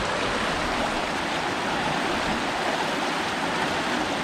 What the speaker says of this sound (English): So this is the sort of where the river goes under the mill to ground the flour to make flour and make bread.